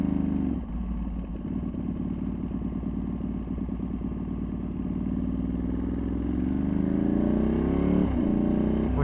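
A tuned Ducati Panigale V2 ridden on the street, a close, loud engine rumbling steadily with a throbbing pulse before revving up sharply near the end, and no talk.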